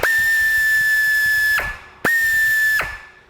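A power tool undoing a nut on a 1979 Citroen CX during starter motor replacement whirs at high pitch for about one and a half seconds, spins down with a ratcheting clatter, then repeats once more, loud and close.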